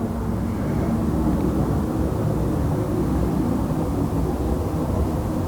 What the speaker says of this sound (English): Why are all these planes flying by my house?